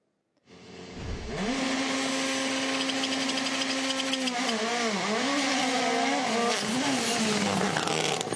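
A WRC rally car driven by Ogier at the Croatia Rally shakedown screams past at full throttle, its engine note rising and warbling through gear changes, loud and close, then carrying on as it pulls away.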